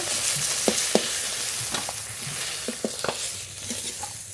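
Steady crackling sizzle of boal fish frying in hot oil, punctuated by several short utensil scrapes and taps, close and continuous.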